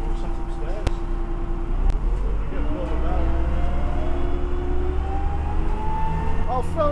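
An MCW Super Metrobus, a classic China Motor Bus double-decker, runs with a steady low diesel drone and rising whining tones, heard from inside with people talking over it.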